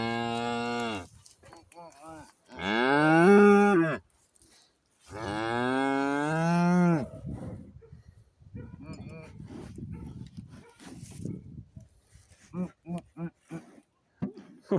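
A calf moos loudly several times in long, drawn-out calls, with someone speaking softly between the calls.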